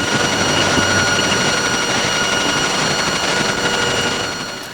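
A 4G mobile phone signal in the 800 MHz to 2.1 GHz range, turned into audio as a dense, steady hiss threaded with faint high whines, loud and even before tapering at the end.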